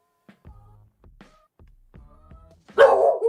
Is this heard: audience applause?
no